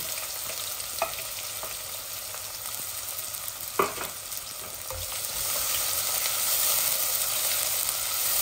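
Onion frying in hot oil with spices for a broiler chicken curry, a steady soft sizzle close by with a few sharp clinks of a spoon stirring the pan, no voices.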